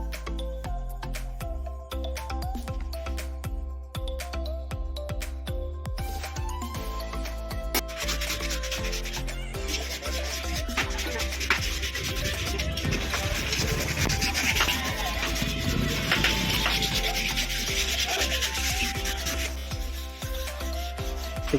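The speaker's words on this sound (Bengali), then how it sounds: "পেপার দিয়ে খাটটিকে ভালো করে ঘষে নেব" Sandpaper is pressed hard against a wooden box bed frame before French polishing. It gives close, repeated rasping strokes that grow fuller and more continuous after the first few seconds.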